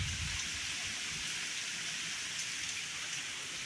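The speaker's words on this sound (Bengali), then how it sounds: "খুব সুন্দর বৃষ্টি হচ্ছে" Steady rain pours down, a dense continuous hiss of drops hitting surfaces nearby, with no voices.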